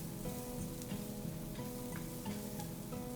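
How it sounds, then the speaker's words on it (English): Garlic and green onion pieces stir-frying in hot oil in a wok, giving a soft, steady sizzle with faint scraping ticks throughout. "Stir fry a little bit."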